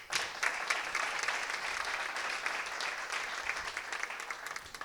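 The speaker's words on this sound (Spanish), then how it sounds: "Fuerte aplauso también." Loud, sustained applause from an audience at a Spanish hockey federation centenary event in Valencia, with steady dense clapping filling the whole stretch.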